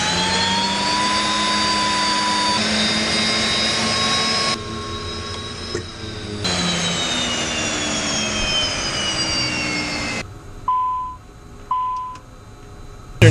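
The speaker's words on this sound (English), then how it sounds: "He's going to go ahead and crank the engine" An aircraft turbine engine whines loudly as it cranks and spools up during a 100-hour inspection, a rising steady roar with shifting tones, then cuts back, leaving faint beeps in the quieter end.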